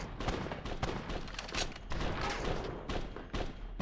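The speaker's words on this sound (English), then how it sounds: "there's such a delayed reaction on the gunshots" Rapid gunfire and booming impacts in the video game BloodRayne Terminal Cut, a dense, continuous barrage of loud shots with thuds throughout, no voices.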